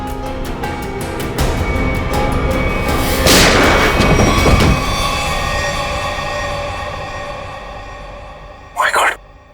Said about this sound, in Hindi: सर, इसने अपने आप को गोली मार दी।